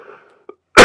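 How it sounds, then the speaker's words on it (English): Near silence gives way to one sudden, loud, harsh cough right at the end. "I don't know why I'm coughing so much."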